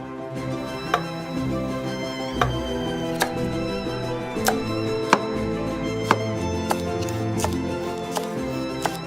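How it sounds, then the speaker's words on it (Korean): A knife chops vegetables steadily on a board, sharp regular taps about once a second over a soft background hum. "육수가 끓는 동안 채소를 한입 크기로 썰어 육수에 투하"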